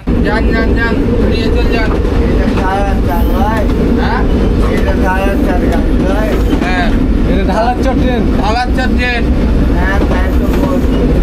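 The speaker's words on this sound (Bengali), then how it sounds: "এখন আবার এই ট্রেন চাঁপাইনবাবগঞ্জ স্টেশনের উদ্দেশ্যে ছেড়ে দিল।" A passenger train pulls away from Amnura bypass toward Chapainawabganj with a loud, continuous low rumble, while people talk over it throughout.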